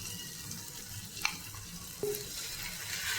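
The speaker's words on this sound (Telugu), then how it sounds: "చికెన్ వేస్తున్నాను." Chicken frying on a tawa with chilli powder, a steady low sizzle and crackle held at a soft level throughout, with a couple of faint clinks near the pan.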